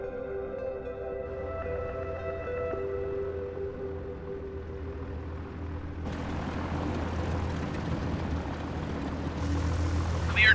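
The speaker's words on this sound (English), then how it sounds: "ready for straight out departure at runway 13" A propeller aircraft in Microsoft Flight Simulator 2020 begins its takeoff roll from a Bolivian airfield. The steady engine drone grows louder and rougher partway through as power builds.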